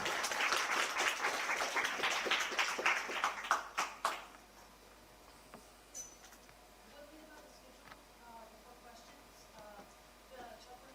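An audience at a summer school talk claps in a burst of applause that fades out after about four seconds, followed by quiet room noise with faint scattered sounds.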